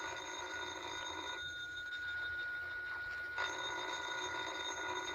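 Old-time radio drama telephone ringing effect: a steady electric bell tone broken by a short gap before ringing resumes, faint and alone with no voices over it.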